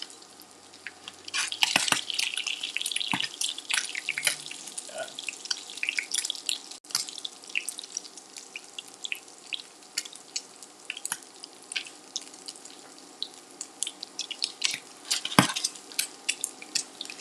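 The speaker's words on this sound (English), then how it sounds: "Because I didn't drain the water from the salmon, they're popping more than they should." Salmon patties made with undrained canned salmon frying in a pan, crackling and popping in dense bursts with sharper spits scattered throughout, steady and close.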